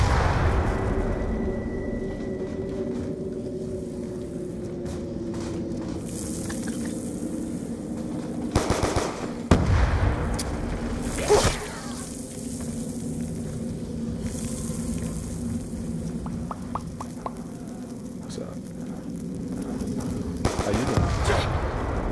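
Sustained rapid gunfire in a zombies video game, near and loud over a steady game soundscape, with heavier bursts now and then and no talk.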